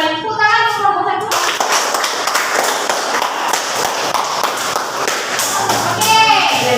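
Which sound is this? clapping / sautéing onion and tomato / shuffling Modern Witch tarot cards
clapping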